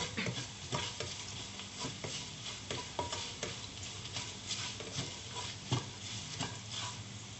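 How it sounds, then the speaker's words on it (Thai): Thai pork sausage stir-fried with basil and dried chili in a hot pan: steady sizzling under a rapid, irregular run of spatula scrapes and taps, close and continuous. "เอาหมูยอลงไปผัดเลยค่ะ"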